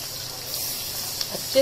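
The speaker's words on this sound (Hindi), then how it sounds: "अभी लहसुन को चॉप करके लाए, अभी लहसुन को डालेंगे।" Chopped garlic frying with curry leaves for Hyderabadi gosht achar, a steady close sizzle over the whole short moment with a couple of small stirring knocks near the end.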